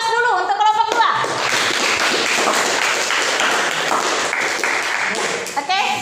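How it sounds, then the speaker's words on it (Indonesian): Classroom audience applauding a student group after its presentation during a teacher performance assessment: a burst of many hands clapping lasting several seconds, with brief voices just before and after it. "kita 3 aplaus dulu untuk kelompok 2"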